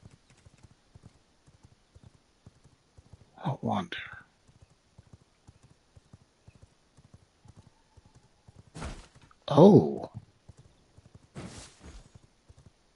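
Horse hooves clopping in the action survival game V Rising, a steady low patter running through the clip beneath a player's occasional short remarks and a few louder bursts.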